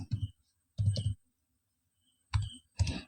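Four sharp, separate clicks from a computer keyboard while an ad is typed, spaced unevenly, with the final pair close together like a press of the enter key in a quiet room.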